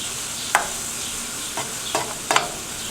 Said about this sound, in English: Now what we're going to do is we're going to wilt those onions. Get that garlic tender.